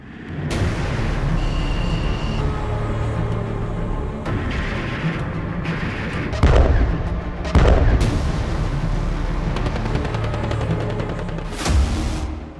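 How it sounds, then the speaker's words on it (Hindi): Artillery shelling and explosions in war combat, with several heavy booms and sharp blasts over a rumbling background, loud and close, with no talking. "जरा देखिए यूक्रेन के ड्रोन, तोप के गोले और फाइटर जेट के हवाई हमलों से कैसे रूसी सेना तबाह हो रही है।"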